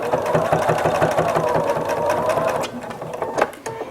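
A sewing machine stitching a fabric pot holder, a loud, close, steady rapid chatter of the needle that runs continuously, slows near the end, then stops with a couple of clicks.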